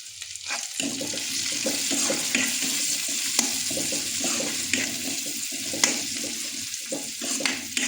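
A handful of curry leaves drops into onions frying in a pan, a bright crackling sizzle with repeated stirring scrapes and spatters, close and steady throughout.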